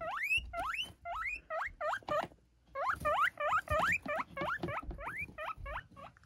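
Several guinea pigs squeak loudly and repeatedly in a cage, rising whistle-like calls arriving in quick bursts with soft rustling of movement underneath, close and clear, with no talking.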